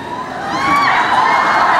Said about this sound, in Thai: แล้วเขากรี๊ดอะไรกันเนาะ